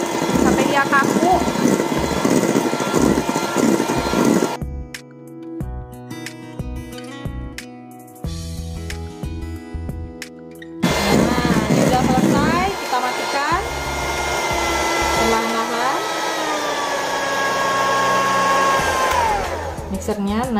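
An electric hand mixer whirs steadily as it whips egg whites toward stiff peaks, a loud continuous motor drone that briefly drops away while someone speaks, then resumes.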